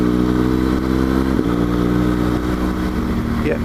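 A BMW R1200GS motorcycle on a winter road ride drones loud and close with a steady engine note, rising slightly near the end as it revs, with wind noise throughout.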